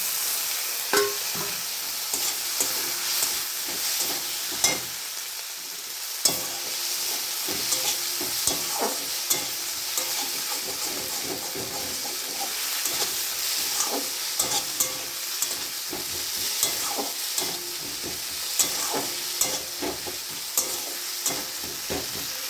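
Chopped tomato and green chili sizzle steadily in a hot pan, a bright continuous frying hiss broken by frequent clicks and scrapes of stirring, close and moderately loud with no talking.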